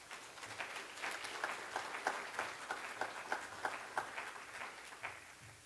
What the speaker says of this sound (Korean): 나오실 때 우리 박수로 한번 환영해 주시기 바랍니다